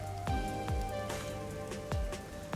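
Steady rain pouring in a neon-lit city district in the video game Master Detective Archives: Rain Code, a dense continuous patter with occasional louder drops splashing nearby.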